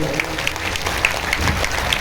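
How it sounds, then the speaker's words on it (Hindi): Audience at a gathering in Daltonganj, Palamu, Jharkhand, clapping together in a steady, dense patter that fills the room evenly without pause. "सभी एक बार एक दूसरे के लिए तालियों की गड़गड़ाहट कर रहे हैं"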